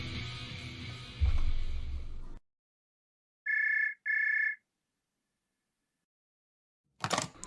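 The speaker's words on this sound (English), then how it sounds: "Let's listen to this phone call." A telephone rings during a recorded 911 emergency call: two clear electronic rings close together in a quiet gap, after a burst of muffled line noise and before more noise returns.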